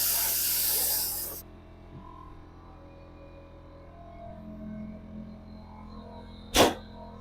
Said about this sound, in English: my test spray going